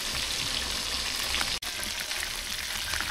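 Chicken pieces for biryani sizzle in hot oil left from frying onions, a loud continuous crackling fry with one brief dropout midway.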